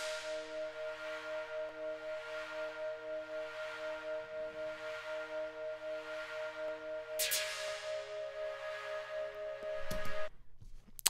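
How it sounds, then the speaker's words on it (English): A soft, sustained pad from Logic's ES2 synthesizer holds steady tones with a gentle pulsing swell, quiet and continuous, with a faint click or two near the end. "we've got this sort of quiet pad in the background"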